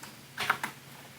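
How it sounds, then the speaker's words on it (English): A brief burst of a few quick keyboard key clicks, close and fairly clear, with quiet before and after. "we'll start typing"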